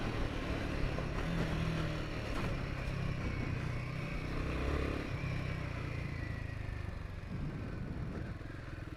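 A Royal Enfield Himalayan 450 motorcycle rides in third gear over a rough, choppy surface, its engine droning steadily and fairly close under wind noise, with a slight rise in revs partway through.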